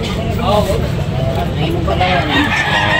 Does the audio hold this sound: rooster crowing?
yes